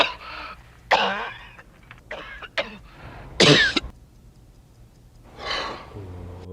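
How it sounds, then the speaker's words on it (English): A single hearty cough bursts out amid a few short throat-clearing sounds and breaths, close by, with quiet pauses between. "That was a hearty cough."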